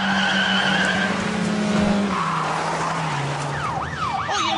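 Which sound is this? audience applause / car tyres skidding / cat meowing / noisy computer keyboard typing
car tyres skidding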